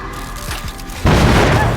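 In Dead by Daylight Mobile, a generator explodes partway through: a loud heavy boom spreading into a dense, roaring crash over a busy game background.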